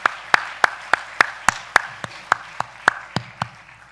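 Evenly spaced sharp claps from a church congregation at a New Year's Day worship service, about a dozen in a steady rhythm, close and distinct with no talking.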